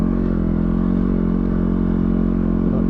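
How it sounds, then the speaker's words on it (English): A Yamaha WR250R motorcycle climbs a sand dune in the desert, its single-cylinder engine droning loud and steady at close range, with light clatter. "Up the sand dune, come on little WR"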